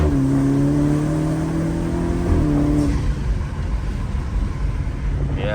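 A BMW F30 330i with fuel-system and other mods gives a strong rising engine note under acceleration, then a gear shift followed by a fresh, rougher pull with intake noise, close and loud.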